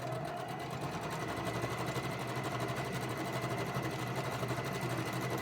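Sewing machine stitching the long top seam of a fabric face mask with a quarter-inch seam allowance, a steady fast mechanical whir and needle patter running continuously and close throughout.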